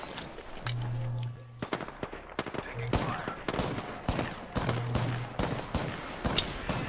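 Sharp gunshots and short automatic bursts in the battle royale game Apex Legends, crackling in irregular clusters at moderate volume, with players talking over the exchange of fire.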